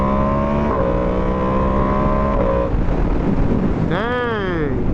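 A 2025 Ducati Panigale V2S with a Termignoni exhaust is ridden on a test ride. Its engine drones loudly and steadily under heavy wind noise, then rises in a quick rev sweep near the end.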